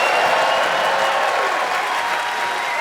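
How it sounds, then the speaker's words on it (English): Sustained theatre audience applause for the Pavilion Theatre staff in Glasgow at a stand-up comedy show, a dense, steady roar of clapping from a large crowd, loud and continuous throughout. "Can I get a round of applause for all the staff at the Pavilion Theatre?"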